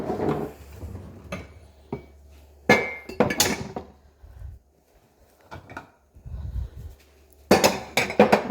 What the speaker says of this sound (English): I'm also in the middle of emptying the dishwasher.